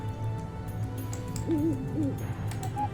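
An owl hoots in the game Warcraft 3 Reforged, two short wavering calls rising over a steady low ambient hum and soft game sounds, with no talk.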